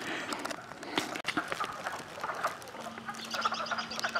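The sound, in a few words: frogs mating calls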